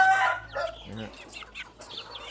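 Young Lan Saen Kon crossbred gamecock chickens cluck and squawk close by in short bursts, with a few brief higher calls.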